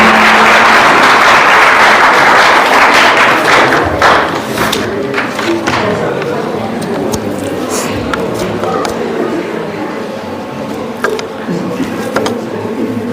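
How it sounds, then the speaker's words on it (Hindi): At a college annual function, the audience breaks into loud applause that roars for the first few seconds, then thins into scattered claps and thuds under a speaking voice. "एक बार डॉक्टर जोरदार ताली"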